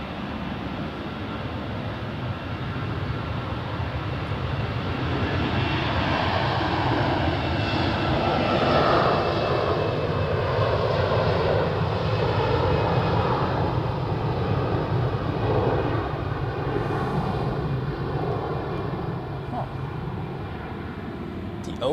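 Aircraft jet engines spool up for takeoff at Zurich Airport, a steady loud broadband roar building and holding from a distance, with a voice talking over it.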